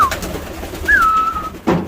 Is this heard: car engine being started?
no